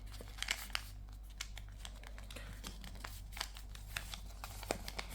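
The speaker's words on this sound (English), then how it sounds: "all you do is fold that little top triangle down" Paper is folded and creased by hand for an origami crane, with faint, close crinkles and soft taps in a quiet room, no voices.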